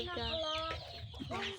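Forty-day-old chickens give close, loud, tonal clucks and squawks around feeding time, several overlapping calls in quick succession.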